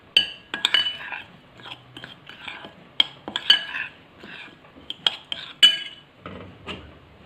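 A spoon clinks against a bowl while black pepper, red chili and garlic powder are mixed together, giving irregular sharp metallic taps and scrapes, close and fairly quiet, with no talking.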